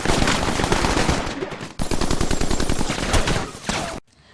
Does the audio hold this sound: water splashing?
no